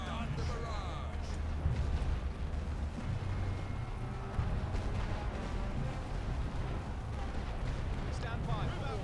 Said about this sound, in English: Looks like we've been hit with artillery here.